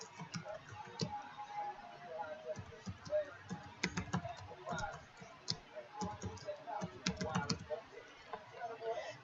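Someone types a password on a computer keyboard, with a quick scatter of soft key clicks in uneven bursts that sit close and quiet.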